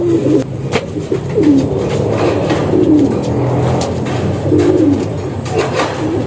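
Pigeons coo repeatedly in soft, throaty phrases over a steady background hum, nearby and moderately loud.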